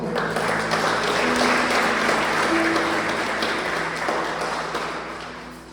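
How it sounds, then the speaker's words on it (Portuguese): A church congregation applauds, a broad, steady roar of many hands in a reverberant hall that slowly fades over its last second. "Você pode aplaudir ao Senhor?"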